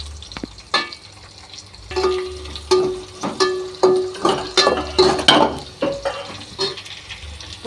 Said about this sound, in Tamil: கொஞ்சம் ஓரளவுக்கு பாவக்காய் எண்ணெயிலே பொரிஞ்சே சரிதான்